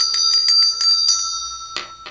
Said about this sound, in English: We've got to ring the bell.